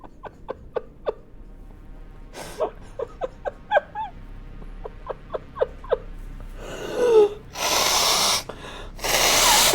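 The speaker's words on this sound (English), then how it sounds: "I was just blowing my nose." A person blowing their nose in a few loud, harsh bursts near the end, after a run of short clicks and breathy snorts.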